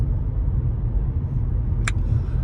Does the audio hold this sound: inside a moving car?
yes